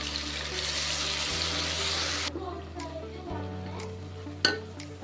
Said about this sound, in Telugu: ఇది పచ్చివాసన పోయేంత వరకు దీన్ని ఫ్రై చేస్తున్నాం